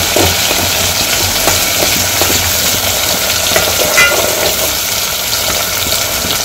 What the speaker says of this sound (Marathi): आता हे मिरची आणि कांदा हे थोडंसं ब्राऊन होऊ द्यायचं आहे छान